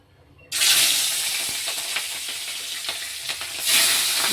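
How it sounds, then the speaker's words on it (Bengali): Tangra fish sizzling steadily in hot oil in a kadai, a loud close hiss with small crackles that starts abruptly and holds to the end. "কড়াতে তেল গরম হয়ে গেছে, মাছগুলো আমি ভালো করে ভেজে নিচ্ছি।"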